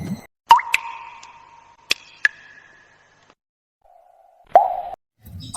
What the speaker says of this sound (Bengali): বাবু টুনির কোনো কথা শোনে না, সেই কুয়োর মধ্যে কি সব ফেলতে থাকে।